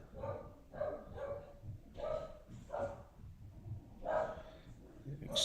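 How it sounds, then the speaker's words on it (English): Dog barking upstairs in a home, a series of muffled, somewhat distant barks in short bursts, heard faintly through the house. "Excuse the dog if you hear it upstairs."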